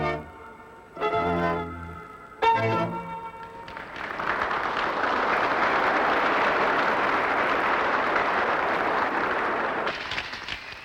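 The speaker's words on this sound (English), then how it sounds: "Everywhere they're applauding" Sustained crowd applause builds into a broad, steady roar of clapping lasting several seconds, preceded by brief musical or speech-like tones and fading slightly at the end.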